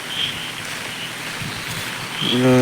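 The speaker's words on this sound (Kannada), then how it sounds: "ತುಂಬ ಮಳೆ ಜೋರಾಗಿ ಮಳೆ ಬರ್ತಿದೆ" Heavy rain pours at night on a dark road during a pilgrimage walk, a steady close hiss of falling water with a brief tonal sound at the very end.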